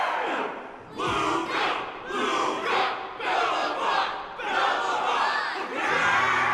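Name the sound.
crowd cheering wildly, from video game Honkai: Star Rail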